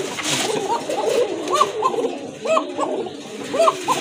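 A big male pigeon at a pigeon farm coos from the chest in repeated rolling, throaty phrases, close and fairly steady over a murmur of background noise.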